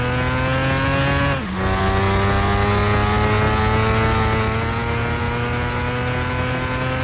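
A video game car engine drones loud and steady with a rising whine, dips briefly as it shifts gear, then climbs back to a sustained high-revving roar with no voices.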